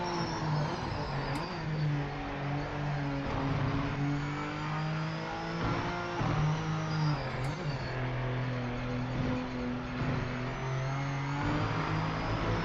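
A Mercedes-AMG GT3 race car engine in the Project Motor Racing sim drones steadily throughout. Its pitch rises and falls through gear changes and revs, and it is heard alone without talk.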